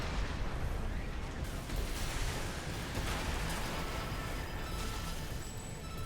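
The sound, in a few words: Earshot weapon firing in Armored Core 6 video game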